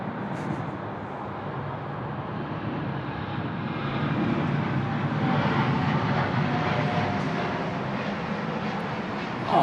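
A Jetstar airliner takes off at Sydney Airport, its engine roar building into a loud, sustained rumble that swells midway and holds steady.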